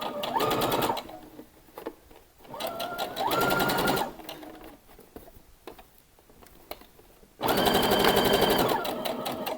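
A sewing machine topstitches a garment near the facing in three loud bursts of rapid stitching, separated by quieter pauses with faint handling noise.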